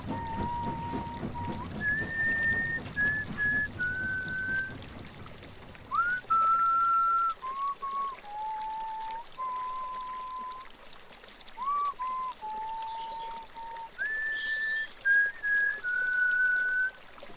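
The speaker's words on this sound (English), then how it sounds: "I came to a bridge and fell to whistling." A person whistles a slow, clear melody by a bridge, one note after another in short phrases. Running water murmurs faintly underneath.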